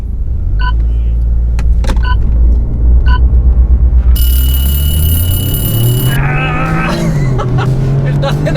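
High-horsepower family sleeper cars launch in a drag race: a steady, heavy engine rumble builds, a high electronic tone sounds briefly, then revs climb sharply as the cars pull away.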